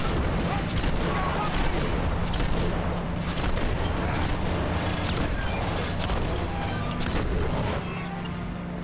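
Dense, continuous rumbling blasts and gunfire-like booms from the video game Uncharted 2: Among Thieves fill the scene at steady loudness, with faint voices buried underneath.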